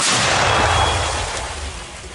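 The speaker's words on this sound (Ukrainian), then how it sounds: "Гармата вогонь. Постріл! Постріл!" A single heavy artillery gun blast booms and rolls away, a broad loud roar that slowly fades over a couple of seconds.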